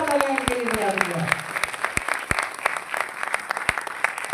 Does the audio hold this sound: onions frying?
no